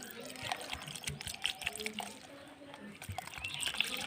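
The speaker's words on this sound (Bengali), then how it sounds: "এইবারে আমি জল দিয়ে আমটাকে ধুয়ে নেবো" Raw mango pieces, just rubbed with salt, are washed by hand in water, giving soft close splashes, trickles and drips at a low level amid faint background noise.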